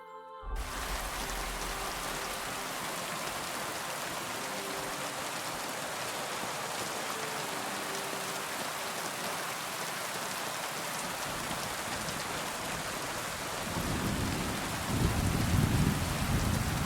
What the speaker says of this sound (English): I like walking in the rain.